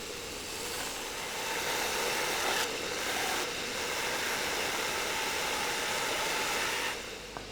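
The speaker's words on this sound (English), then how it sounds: "I love using this bandsaw" A homemade bandsaw, built by hand years ago, cuts through scrap wood pieces with a steady, loud whirring hum that holds evenly for several seconds before dropping away near the end; no one speaks.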